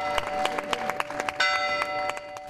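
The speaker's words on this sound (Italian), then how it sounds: "Sono tornate a suonare a Pianella le campane della chiesa di San Domenico" Bright, metallic church bells of San Domenico church in Pianella, Italy, strike in quick irregular succession, their tones overlapping and sustaining into a dense, echoing peal.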